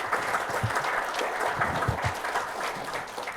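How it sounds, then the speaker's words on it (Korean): A lecture audience claps steadily to welcome a speaker, dense and continuous, with a few louder hand claps standing out in the crowd. "박수로 이순형 교수님 모셔보겠습니다."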